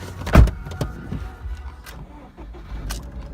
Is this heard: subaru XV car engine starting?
yes